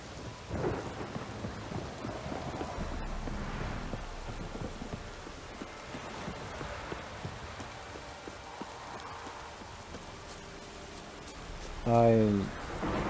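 Steady heavy rain hisses throughout in The Witcher 3: Wild Hunt, with low rumbling beneath and a short burst of a louder tonal sound near the end.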